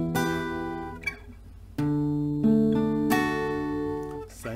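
A guitar picks an arpeggio pattern, with notes ringing clearly and overlapping in a steady picked rhythm, played alone and close.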